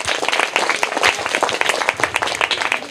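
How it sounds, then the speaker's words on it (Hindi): Audience applause at a school prize presentation for a winning student, brisk, dense clapping from a group of people, close and steady throughout. "जोरदार तालियां हो जाए इनके लिए"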